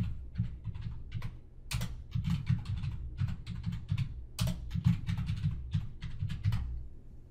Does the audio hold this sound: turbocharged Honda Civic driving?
no